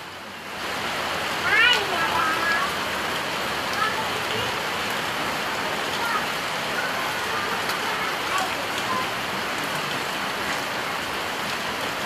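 Heavy rain falls steadily in Cavite, a dense continuous hiss, with a brief bird chirp near the start.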